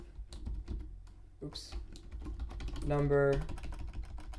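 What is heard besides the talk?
typing code on a computer keyboard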